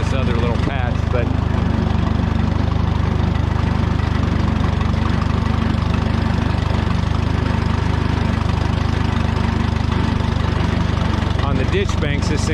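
A Minneapolis Moline tractor pulling a sickle bar mower chugs along in first gear low, its loud, steady engine drone continuous and close throughout, with someone talking over it.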